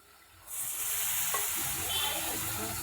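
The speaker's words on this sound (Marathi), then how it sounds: "तेल सुटलं की मग त्यामध्ये घालून घ्यायची आहे तुरीची उसळ शिजवलेली" A burst of loud sizzling as cooked pigeon peas hit hot oil, settling into a steady crackling fry that continues to the end.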